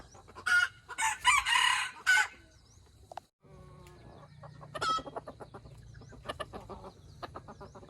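Near a rooster, loud bursts of crowing come first, followed by a short pause and then repeated clucking from chickens. A low steady hum runs under the whole scene.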